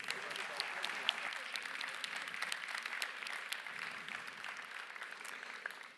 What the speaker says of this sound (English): I think we can all give them again a big round of applause.